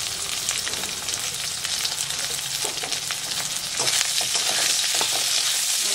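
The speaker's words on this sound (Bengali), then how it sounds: "পেঁয়াজ কুচি দিয়ে দিলাম, রসুন কুচি দিলাম" Chopped onion, garlic and green chillies fry steadily in hot oil for red lentil dal, a dense continuous sizzle close by with occasional stirring scrapes, no voices.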